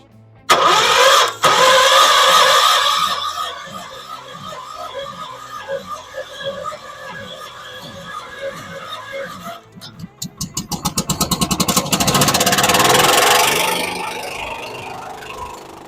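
An old Dodge truck engine cranks over and over with a rhythmic chugging, then catches with a rapid sputter and settles into a loud, rough running idle.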